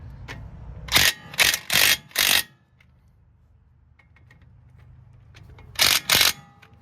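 Wrench ratcheting on front brake caliper bolts of a 2007-2013 GMC Sierra 1500 pickup, with four quick bursts of clicking early on, a quiet pause, then two more bursts of close, bright ratcheting.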